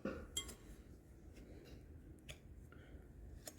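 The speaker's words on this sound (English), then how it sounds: "Now we mix." Ingredients being mixed in a bowl for baking: light clinks and taps of a utensil against the dish, sparse and fairly quiet, with faint room noise between them.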